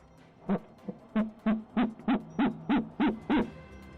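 An owl hoots from inside an owl box, giving a run of about nine evenly spaced low hoots that grow steadier and slightly louder, close and clear over quiet background.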